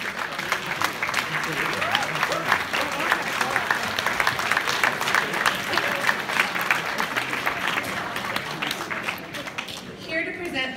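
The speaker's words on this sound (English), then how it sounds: "please stand so we can acknowledge and applaud you" Sustained audience applause at an awards event honoring the Behavioral Health Person of the Year, filling the room steadily for about ten seconds before tapering slightly at the end.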